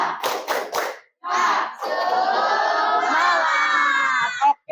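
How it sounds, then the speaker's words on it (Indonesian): A group in a training class performs the 'tepuk semangat' clapping chant as an ice breaker: a quick burst of rhythmic group claps, then a loud drawn-out shout in unison, a short pause, and a final sharp clap. "Ice breaking yang tepuk semangat ya, biar semangat belajarnya."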